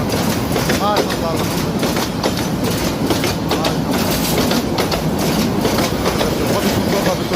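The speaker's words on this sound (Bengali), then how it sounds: "দেখা যাচ্ছে ট্রেনটি চলে গেল।" A train rolls past close by in the late afternoon, a loud continuous rumble with rapid clickety-clack wheel beats throughout, and a voice is heard briefly near the start.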